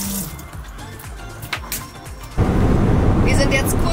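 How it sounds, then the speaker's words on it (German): Tap water runs steadily in a motorhome while someone washes their hands, a loud continuous splashing rush that starts abruptly partway through after quieter clatter. "Ich muss eher mal Hände waschen."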